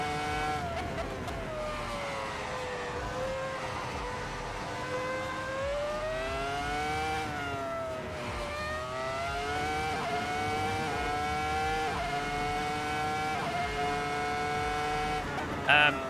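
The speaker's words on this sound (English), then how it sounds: "I could hear his car coming" Race car engine in the iRacing sim game drones steadily throughout, its pitch sliding up and down as it revs and approaches, loud and continuous with no talk.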